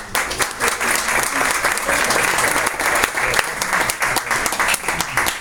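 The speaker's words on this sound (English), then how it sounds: "Round of applause." A room full of people at a luncheon claps steadily, a dense sustained round of applause with no talking over it.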